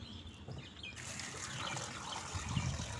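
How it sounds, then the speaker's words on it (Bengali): Tap water running while a pumpkin is washed, a continuous close splashing and gushing stream with a faint bird chirp in the background. "আর এখন দেখো কুমড়োটাও ভালো করে ধুয়ে নিচ্ছি"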